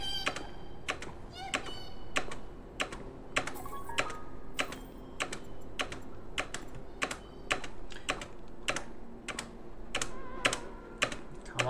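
Rapid computer keyboard typing with repeated spacebar presses, a steady run of sharp close clicks and thumps continuing throughout with no talk.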